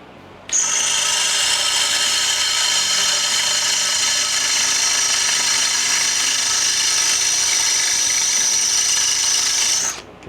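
A power drill fitted with the wrong drill bit runs nonstop at a high, whining pitch for about ten seconds, loud and close, grinding into material before stopping abruptly.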